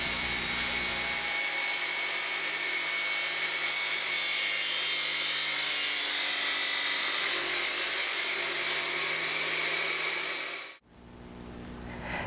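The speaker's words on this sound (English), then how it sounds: "the blade of the cutoff saw to cut through the U-channel" A cutoff saw cuts through thin metal U-channel edging for plywood shelving with a loud, close, steady high whine and grind for about ten seconds. The sound then drops sharply and the motor winds down.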